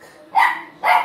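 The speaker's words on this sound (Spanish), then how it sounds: "Perdón, son mis perritos." Two small dogs' sharp yapping barks at home, two close, loud yips about half a second apart over a quiet background.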